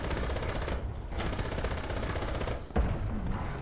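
Sustained rapid machine gun fire in the tank combat game War Thunder, loud dense bursts with short pauses between them and a sharp heavier shot near the end.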